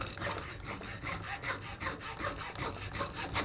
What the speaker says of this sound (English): I'll just cut through until the hacksaw bottoms out on the bolt.